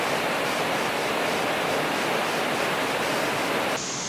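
Continuous loud rush of water pouring down the second tier of Sap Somboon waterfall in Nakhon Sawan, a thick, even roar heard up close that drops off abruptly just before the end.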